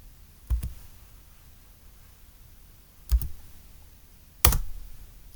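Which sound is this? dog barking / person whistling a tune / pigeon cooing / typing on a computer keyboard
typing on a computer keyboard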